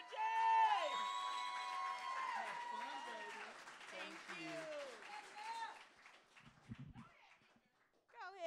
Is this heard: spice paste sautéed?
no